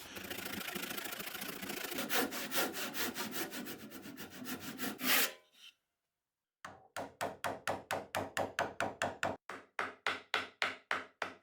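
A hand saw cuts through wood for a workbench mortise in rapid steady strokes, pauses briefly, then resumes with slower, distinct back-and-forth rasping strokes.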